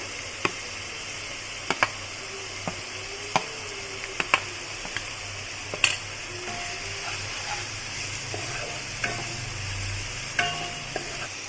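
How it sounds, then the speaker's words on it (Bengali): Ginger, garlic, green and red chilli paste is stir-fried in a pan for chicken kosha, with a low steady sizzle broken by scattered sharp spoon clicks and scrapes; no one speaks. "একটু নেড়ে চেড়ে করে দেব যে আদা রসুন এবং কাঁচা লঙ্কা পাকা লঙ্কার পেস্ট করে রেখেছি সেটা"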